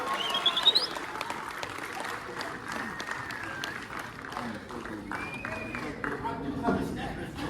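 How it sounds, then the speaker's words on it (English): An audience at a film festival screening in a theatre claps and cheers through a post-film interview. The applause is steady and moderately loud, with some voices and a whistle mixed in over the crowd. "Come on, we need a round of applause for that."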